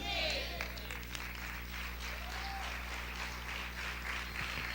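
A church congregation applauds as a diffuse, even wash of distant clapping over a steady hum, with voices mixed in.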